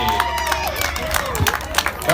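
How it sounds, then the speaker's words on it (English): An event crowd cheers and claps for a competitor called forward, with scattered applause and whoops under a busy murmur of voices and a nearby person talking. "please step forward and give her a big round of applause"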